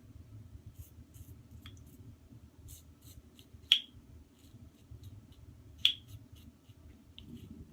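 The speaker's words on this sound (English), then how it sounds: "Clicking my glasses there." A pair of eyeglasses gives two sharp, isolated clicks a couple of seconds apart during a quiet wet shave with a razor, set against a low steady background hum.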